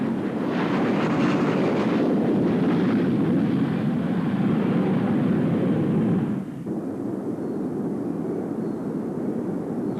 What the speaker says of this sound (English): This NASA spin test will define the safe limits of a new jet trainer